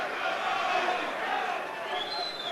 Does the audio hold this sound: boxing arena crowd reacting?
yes